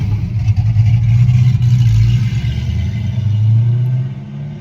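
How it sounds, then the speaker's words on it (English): A loud car rolls past nearby with a deep, rumbling engine that swells, eases and swells again as it passes and slows. "Oh, here comes a loud car. Hold on, he's got to pump his brakes."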